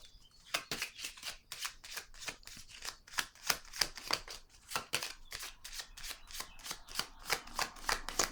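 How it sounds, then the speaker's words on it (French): Tarot cards being drawn and shuffled, a close series of crisp riffling flicks and slaps in an even, repeating rhythm, heard alone without any talking. "Je vais piger une autre carte ici."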